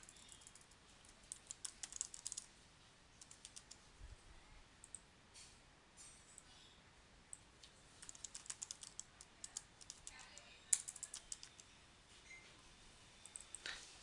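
Quiet, close typing on a computer keyboard, with scattered bursts of soft key clicks and short pauses between runs, one sharper keystroke near the end.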